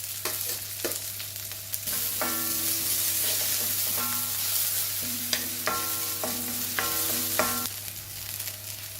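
Chopped onion and green chilli sizzle in hot oil in a pan while being stirred, a continuous close frying hiss with scraping stir strokes, over a steady low hum and tonal background music.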